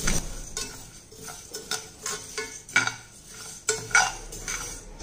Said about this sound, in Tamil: இப்போ வந்து நம்ம உளுந்த போடுறோம் இதை வந்து நல்லா வறுத்துக்கணும் பொன்னிறமாக வறுத்துக்கணும்